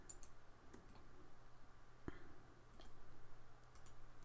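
Computer mouse clicking while drafting in AutoCAD, one sharp close click in the middle over faint background hum, with a few softer ticks around it.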